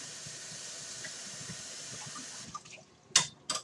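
Rinsing under a running kitchen tap while baking chocolate cookies: a steady, close hiss of flowing water that breaks off, followed by a few short splashes and clatters.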